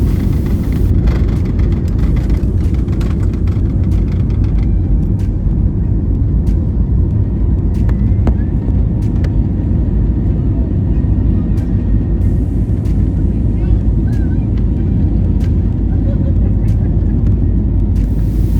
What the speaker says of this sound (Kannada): ಇವಾಗ ಫ್ಲೈಟು ಟೇಕ್ ಆಫ್ ಆಗ್ತಾ ಇದೆ